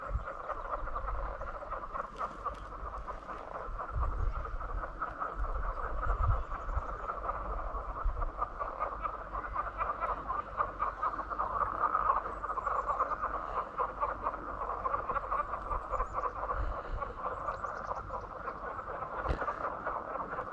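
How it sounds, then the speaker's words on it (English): Frogs croak continuously at the tip of Ogle Lake in Brown County State Park, Indiana, a dense chorus of overlapping calls heard steadily throughout at moderate distance with no talking. "I think they're frogs."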